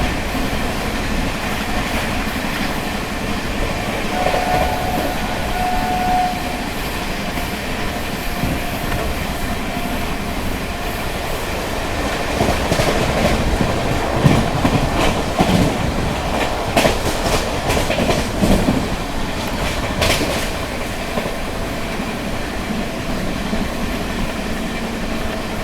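The 20805 Andhra Pradesh Express rolls along in monsoon weather, heard from inside a general coach: a steady wheel rumble with rhythmic clickety-clack over rail joints, growing busier with rattles and clanks toward the end.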